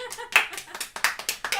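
A small quiz-night audience claps in a short, uneven burst of hand claps, close and fairly loud, with voices mixed in.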